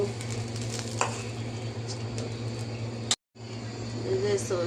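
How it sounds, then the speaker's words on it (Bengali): Oil heats in a tawa set on a stove for a tilapia and tomato curry, making a soft, continuous sizzle over a low steady hum, with a voice speaking briefly in the background. "চুলায় তাওয়া বসাইলাম, তেল দিয়ে দিলাম"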